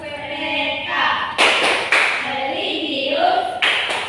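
Children in a classroom perform the PPK clap routine, sharp rhythmic claps and taps spaced through a murmur of voices and chanting, close and lively.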